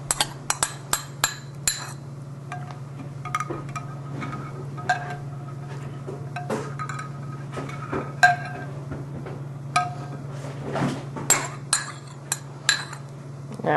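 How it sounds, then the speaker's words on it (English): Metal spoon clinking and scraping against a pot while yogurt starter is stirred into warm milk, a series of sharp clinks and taps over a steady low hum, close by and with no talk. "I'm going to mix it back into the warm milk"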